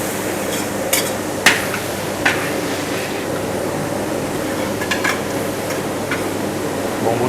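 Garlic stir-fried in hot oil in a wok for capcay gives a steady sizzling hiss, broken by a few sharp metallic clicks and scrapes of the spatula against the pan.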